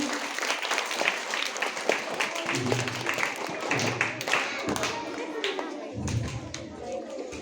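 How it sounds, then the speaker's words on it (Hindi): An audience at a school science project exhibition claps enthusiastically for a boat model, a steady ripple of applause from a crowd mixed with nearby voices talking. "तो इसके लिए जोरदार ताली हो जाए बोट के लिए"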